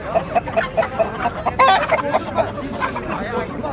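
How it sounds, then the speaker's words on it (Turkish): A turkey and a rooster call repeatedly at a busy poultry market in Kırıkkale, Turkey, with rhythmic clucking and a louder crow-like burst midway, over background chatter and noise. "Burada bir hindi bir horoz var."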